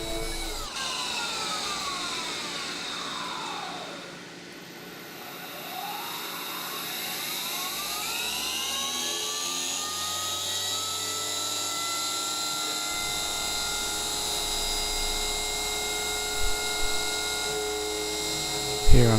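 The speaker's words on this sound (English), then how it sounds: "Here I'm just putting a nice chamfer around all the edges." A machine tool cuts a chamfer along the edges of a motor mount, a loud steady whine whose pitch sweeps down and back up as the spindle changes speed, with a couple of sharp knocks at the end.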